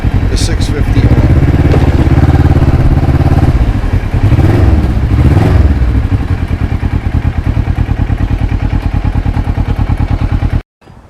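A 650R motorcycle on the move, recorded with a GoPro 3 camera: a continuous, loud engine drone mixed with wind buffeting, steady for most of the ride before cutting out abruptly near the end.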